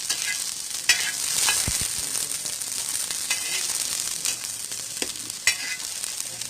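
Oil spits and crackles loudly in a hot pan while aloo veggie omelet ingredients fry, with a dense steady sizzle broken by sharp pops scattered throughout.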